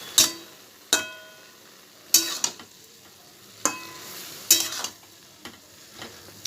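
A spatula stirs fried prawns, slit green chilies and ash gourd in a pan, making about seven sharp scraping strokes at an uneven pace over a soft, constant sizzle.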